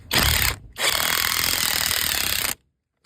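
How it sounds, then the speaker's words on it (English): An impact driver fastens the steering wheel of a 1988 Monte Carlo, with a short loud burst, a brief pause, then a longer sustained rattling hammer run of close, harsh mechanical impacts that stop abruptly. "and drill it down with the impact"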